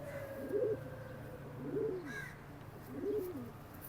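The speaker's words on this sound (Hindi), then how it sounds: "ये उड़ा हुआ कबूतर है।" Pigeons coo at a pigeon market, three soft rounded coos spaced about a second apart over a quiet background murmur, fairly close and moderately loud.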